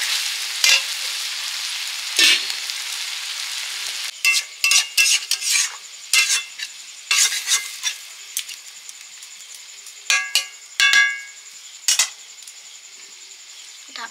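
Sautéed kundli vegetables with prawns in a pan, heard as sharp metal spatula scrapes and clinks against the pan over a low background sizzle, in irregular bursts with pauses between them.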